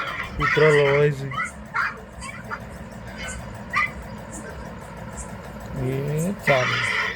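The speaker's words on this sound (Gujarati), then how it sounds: "કૂતરા લવાય છે" Dogs bark in short, scattered yelps along a village lane during a family walk, with vehicle rumble and people talking throughout.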